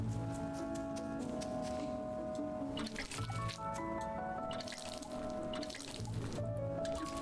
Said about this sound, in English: I've started with a rudimentary system to water our crops.